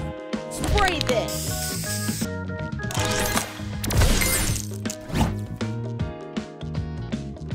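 A sprayer booster fires in a match-style puzzle game, giving a bright hissing spray burst over upbeat, busy game music, with cartoonish whooshes, pops and impact effects layered on top.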